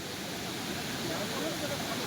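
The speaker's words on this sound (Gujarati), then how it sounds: "કેવી સ્પીડથી પાણી આવે છે" Floodwater from the breached Ozat embankment in Gher, Junagadh rushes past in a dense, even roar, loud and close, with no break.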